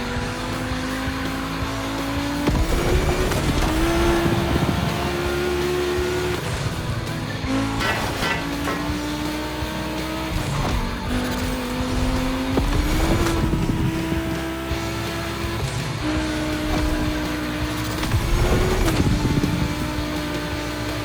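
Volkswagen cars race on a track in The Crew Motorfest, engines roaring loud and close with rising and falling revs, shifting gears and brief tire squeals through corners, continuous throughout with no talking.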